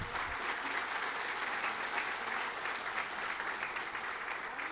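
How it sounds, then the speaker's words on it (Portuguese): A crowd claps for the mayor at a civic event in São Paulo state, a dense, steady, close applause that holds evenly throughout with no talk over it. "Uma salva de palmas para o Felício."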